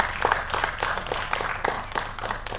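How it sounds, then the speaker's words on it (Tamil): Applause from an audience at a Tamil film event, dense overlapping clapping with a steady crowd wash under it, moderately loud and continuous with no clear voices. "ஒரு தடவை நம்ம எல்லோரும் கைத்தட்டிடுவோம்"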